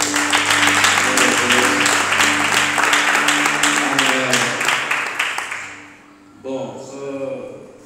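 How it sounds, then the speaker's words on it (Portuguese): Congregation applauding in a church service, steady broadband clapping for about five seconds under sustained organ or keyboard chords, fading out before a short voice speaks near the end. "Podemos aplaudir pela vida do meu pai."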